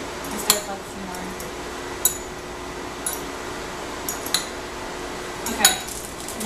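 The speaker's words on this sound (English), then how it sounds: "So I'm supposed to stir it for 30 seconds." A utensil stirs spicy instant noodles in a bowl, giving scattered metallic clinks against the sides at irregular intervals over a faint room hum.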